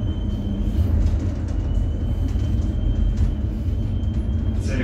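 Interior ride of an LVS-97A tram on route 24 in St. Petersburg, a steady loud rumble of wheels and motor with a faint high whine and occasional rattles, no talk.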